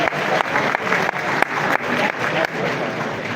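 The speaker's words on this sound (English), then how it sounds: "Let's give Jamie an extra special round of applause for that incredible presentation." An audience at a smartphone launch event in London applauds after a presentation. The clapping is steady and moderately loud, with faint rhythmic pulses running through it.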